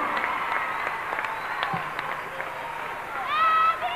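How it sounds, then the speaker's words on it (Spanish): Applause from an audience at a gathering honoring a guest, steady crowd clapping throughout with voices mixed in underneath. "El señor Antonio Carvajal, el aplauso para él."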